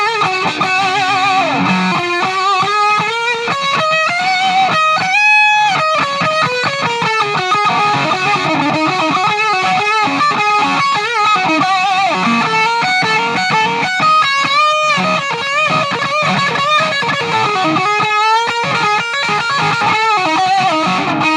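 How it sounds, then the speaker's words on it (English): An electric guitar played through a Boss DS-1 distortion pedal set nearly to maximum gives a loud, saturated, buzzing tone with sustained chords and lead phrases that ring out steadily. "let's get this distortion up even more"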